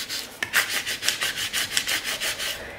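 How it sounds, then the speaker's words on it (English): A scraper rubbing vinyl decal onto transfer tape, heard as a steady series of about a dozen close, rhythmic scratchy strokes with no talking. "I'm gonna use my scraper and scrape it onto the transfer tape really well"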